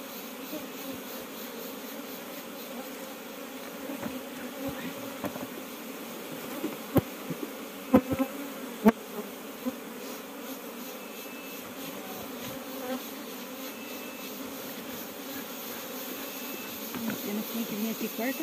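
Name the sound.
angry honeybees buzzing during honey harvest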